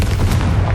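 A Confringo fire-spell explosion in the Hogwarts Legacy video game lands as one loud, short, booming blast that fills the whole moment.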